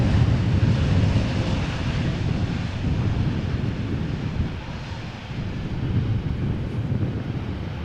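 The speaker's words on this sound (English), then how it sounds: "It is a Boeing 7879 Dreamliner arriving from Las Vegas." A four-year-old Boeing 787-9 Dreamliner arriving from Las Vegas roars past at Amsterdam Schiphol, a loud, broad rumble near the microphone with some wind buffeting, easing slightly midway before swelling again, with no voices.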